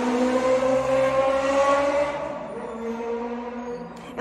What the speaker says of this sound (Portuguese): foi uma moto bem barulhenta